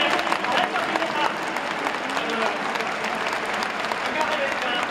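Stadium crowd at a Japanese baseball game cheering and applauding a home run hitter, a dense, continuous roar of clapping and shouting that stays loud and steady, heard from within the stands.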